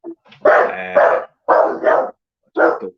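A dog barks three times in close, loud bursts, with short pauses between them and no talking.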